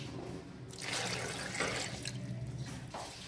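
Half a glass of water poured into a pot of 1.5 kg of sweet potatoes, a close splashing pour lasting a few seconds with brief trickles at the end.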